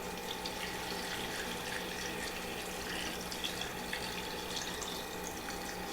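Hot pickling liquid is poured over dilled carrots packed in a jar, producing a steady, close trickling and splashing that runs continuously with a faint hum underneath.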